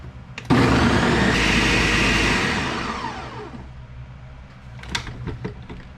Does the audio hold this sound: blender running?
yes